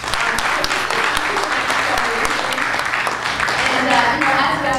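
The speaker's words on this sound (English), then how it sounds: "Give them a round of applause." Sustained audience applause for Sunday School performers at a Hindu Heritage Month celebration held at ISKCON Brampton, with steady clapping from a large crowd and some voices mixed in throughout.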